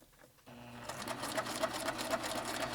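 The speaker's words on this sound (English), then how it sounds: "It's really important that the machine is pulling the fabric through according to each and every stitch." Sewing machine stitching muslin fabric along a half-inch seam, starting after a quiet half second and then running in a steady, continuous close whir with a faint rhythmic stitch pattern.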